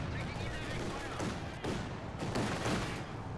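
Machine gun fire in the PC strategy game Company of Heroes 2, a dense and steady rattle of battlefield shooting that runs through the whole stretch with no pause.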